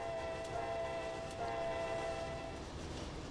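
CSX locomotive in the Trainz railway simulator game, a steady engine rumble with a sustained horn tone through most of the stretch, fairly quiet and even, with no talking.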